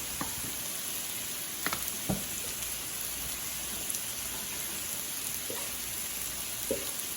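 Cabbage and noodles stir-fry in oil on a griddle, giving a steady, close hiss of sizzling with occasional small pops and a few light scrapes of a utensil, with no talk.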